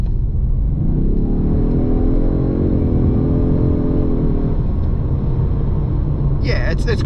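A 2024 Ford Mustang 2.3 EcoBoost in race exhaust mode revs up under full-throttle acceleration, its pitch climbing and holding as an artificial exhaust drone fills the cabin, then eases off.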